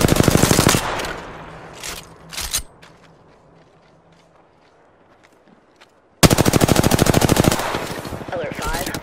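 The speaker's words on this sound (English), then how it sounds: "I'm taking fire." Automatic gunfire in the Apex Legends video game: loud, rapid bursts up close at the start, a quieter lull with scattered distant shots, then another long rattling burst near the end.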